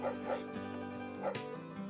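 A dog in the PS2 video game The Dog Island yips and barks in quick short bursts over a continuous layer of game music.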